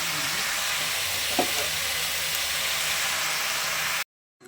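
Constant loud hiss of oil frying in a pan as leaves are added, a brief knock partway through, then the sound cuts to near silence.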